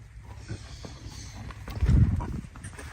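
A horse rolls and frolics in loose soil, giving soft rustling thumps and scuffs with one heavier thud midway, fairly close with faint outdoor background.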